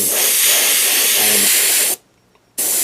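Loud close hiss of a spray gun laying paint onto fishing baits, a steady spray that cuts off sharply for about half a second before resuming, with no talking.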